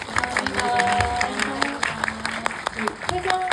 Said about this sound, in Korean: 오늘 이 시간 함께 해준 감독님과 배우분들께 박수 치면서 마무리하도록 하겠습니다